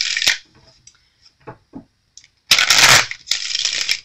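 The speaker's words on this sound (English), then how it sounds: "So let's just shuffle the cards." Tarot cards being shuffled by hand up close: a quick riffle, then scattered soft taps and slides, followed by two loud sustained bursts of rapid card flutter.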